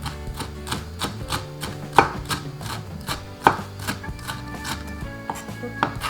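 Red chili peppers chopped on a cutting board for a mung bean sprout pancake, a steady run of crisp knife knocks with a few sharper strikes, close and alone without talk.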